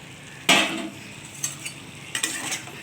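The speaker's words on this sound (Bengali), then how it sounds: "এর সঙ্গে আমি আলুটা দিয়ে দিচ্ছি" Potatoes are dropped into a pan of soybean curry and stirred, with a sharp sizzling splash at first, followed by a few lighter scrapes and clinks of the spoon against the pan.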